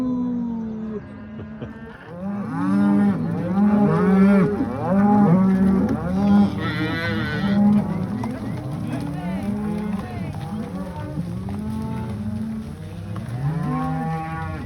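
Several cattle moo repeatedly and overlap, loud and close, during a cattle drive to the range, with a few people talking in the background as the herd moves.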